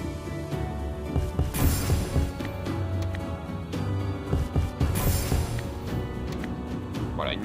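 Hand of Midas 2 slot machine game audio plays continuously: dense jingling chimes and musical tones with spin and win flourishes, fairly loud throughout, with no speech over it.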